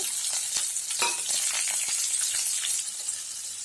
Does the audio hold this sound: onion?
yes